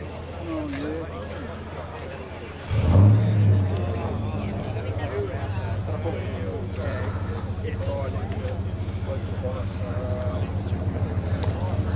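A car engine idles at a Cars and Coffee meet in Murray Bridge, with a steady low exhaust rumble and a brief rev partway through, under close conversation between men.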